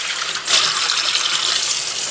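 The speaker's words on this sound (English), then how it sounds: "And now I'm going to rinse out the cans." Tap water runs steadily into empty tuna cans being rinsed at a sink, a continuous close hiss and splash that swells slightly after a brief dip.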